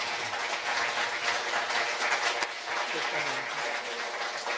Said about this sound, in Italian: un applauso a Don Enrico